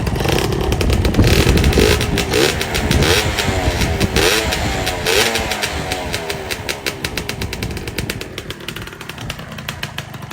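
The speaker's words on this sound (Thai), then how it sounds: "เดี๋ยวเบิ้ลให้ฟังเท่านี้ครับ" A used Honda Dash 125 motorcycle engine revs loudly up close, rising and falling in several bursts before settling into a rough, throbbing idle.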